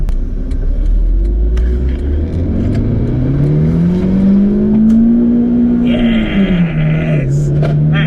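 A car engine running on chocolate instead of engine oil revs hard toward the redline. The loud, close engine note climbs steadily in pitch, holds high, then eases slightly.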